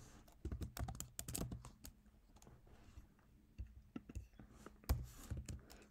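Quiet typing on a computer keyboard comes in irregular bursts of light clicks, with short pauses between runs of keystrokes, close up and alone.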